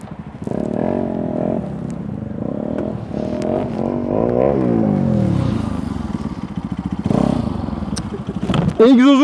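A Yamaha NMAX 125 scooter revs hard through its exhaust, the engine note swelling and dipping in repeated throttle blips, loud and close, with someone talking over it throughout.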